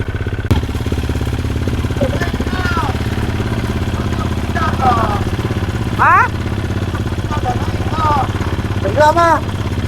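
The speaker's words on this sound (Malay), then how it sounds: "Start motor lah." An enduro motorcycle stranded in the Lenggong forest runs with a steady low engine chug throughout, while people talk over it and their voices rise above the idle in short bursts.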